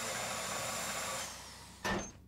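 A drill whirs steadily on a security box during a Cluckin' Bell Farm Raid in GTA V Online, running at moderate level, then it fades and a brief burst of noise follows near the end.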